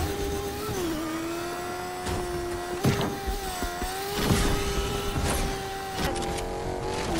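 A car drives in the video game Fortnite with a whining engine tone that rises and dips as it steers. Short bursts of impact and effect noises break in now and then.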